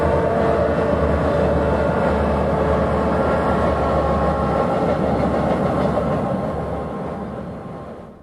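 Santa Fe eastbound freight train leaving California near the Arizona border, a loud continuous rumble of rolling cars with a low engine drone, fading slightly toward the end, no voices.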